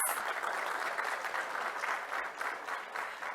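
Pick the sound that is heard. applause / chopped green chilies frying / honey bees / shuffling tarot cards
applause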